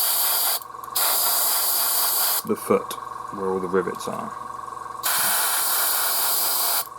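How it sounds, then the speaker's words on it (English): Spray paint hisses from an aerosol can onto a scale model in long, loud, steady bursts, cutting out for a stretch in the middle while someone speaks, then resuming. "So I'll just spray that up there"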